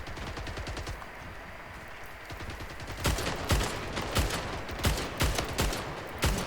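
A ray rifle fires in a video game, starting with quick rattling bursts and then breaking into a string of sharp, separate loud shots over the second half, with no voices.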